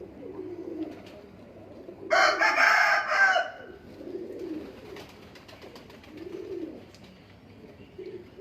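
Soft, low cooing from pigeons repeats in gentle bursts across the clip, interrupted by a loud broadband rustle or flutter near the middle.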